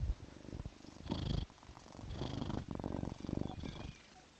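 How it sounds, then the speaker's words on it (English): A calm cat purring close to a microphone, a low rumbling purr in rhythmic breathing pulses, steady and near with no speech over it. "I'm sure you guys can hear the purr on the microphones."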